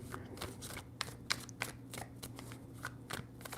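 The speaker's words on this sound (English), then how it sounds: "Three shuffles." Tarot cards being shuffled by hand: quiet, repeated riffling flutters in quick irregular bursts, close and soft, with no talking.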